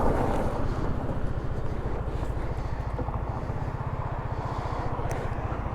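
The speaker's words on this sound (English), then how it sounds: "Today I'm going to take a ride on the Vespa, not the Harley." A Vespa GTS scooter engine runs steadily through a test ride, its low pulsing drone close and continuous under heavy wind rush, with no speech.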